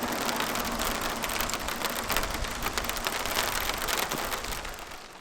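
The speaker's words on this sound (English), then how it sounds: "I think it's hailing." Hail falls steadily outdoors, a dense continuous patter of pellets striking surfaces at close range, holding fairly loud and even before easing slightly at the end.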